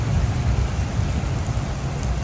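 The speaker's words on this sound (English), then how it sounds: "The rain's coming down." Steady rain pours down outdoors on a wet day in Kaohsiung, Taiwan, as a dense, even hiss with a low rumble beneath, continuous and fairly close.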